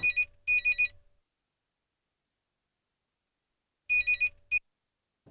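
A telephone rings in a home during a conversation between mother and son, giving two loud trilling bursts, a long pause, then two more trills, with no voices over them.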